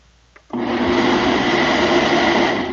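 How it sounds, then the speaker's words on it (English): A small Ninja blender kicks on after a brief quiet moment and runs loud and steady, its motor whirring with a dense, even roar until the end. "I got this smaller blender and a food processor."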